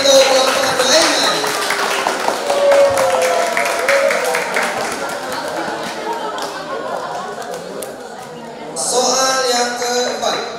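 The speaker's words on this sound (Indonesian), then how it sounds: "Berikan tepuk tangan untuk kelompok lainnya." Students clap for the other teams during a quiz competition among new boarding-school pupils, a loud scattered round of claps mixed with chatter that tapers off before a voice resumes.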